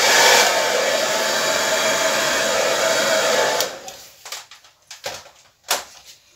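A hair dryer blows steadily across wet acrylic pour paint for about three and a half seconds, loud and close, then cuts off, leaving a few scattered knocks and handling clatters.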